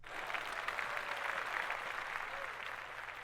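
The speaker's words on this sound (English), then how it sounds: "Let's applaud that." Steady, moderately quiet applause from a small crowd at a podcast-style discussion, continuous clapping with no pauses over a few seconds.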